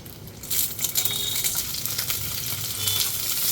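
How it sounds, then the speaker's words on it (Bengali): Momos fry in a pan with a crackling, spitting sizzle that rises after a quiet start and holds steady, close and fairly soft, with small clinks and stirring noises and no voices. "মোমোসগুলোকে ফ্রাই করে নেব।"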